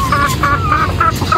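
Several chickens cluck in quick repeated calls close by, a hen among them ready to lay eggs, the clucks rising over a steady rumbling background.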